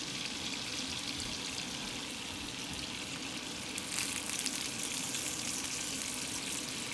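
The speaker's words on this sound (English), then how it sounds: "I just added a little water" Water streams steadily into a pan of butter, grated ginger and garlic, a constant hissing pour with a brief louder surge midway, heard alone without talk.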